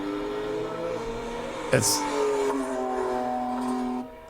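A car engine idles steadily with a low, even hum, then a sharp burst of revving briefly rises before settling back to a steady idle.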